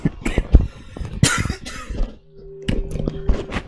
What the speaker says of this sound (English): Can I not cough anymore?